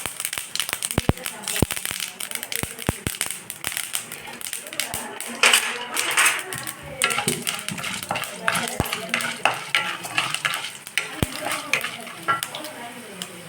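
Mustard seeds and chana dal fry in hot oil in a pan, a continuous close sizzle and crackle with scattered sharp pops and spoon clinks from stirring, while a voice talks over it.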